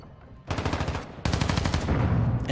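Distraction grenades in Call of Duty: Modern Warfare 2 mimic gunfire: two loud rapid bursts of automatic-style shots, close and punchy, the second following a brief gap and running to the end.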